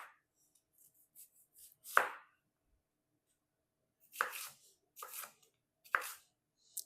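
Kitchen knife slicing through a sweet Walla Walla onion on a cutting board, a few crisp separate cuts with pauses between them, close and quiet with no talking.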